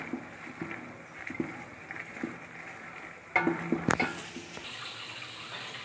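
Spice paste sizzles in a pan as it is stir-fried for a home-style chicken pulao (morog polao). Soft steady frying hiss runs under rhythmic spatula scrapes, and a louder clatter of metal against the pan comes midway, with no talking.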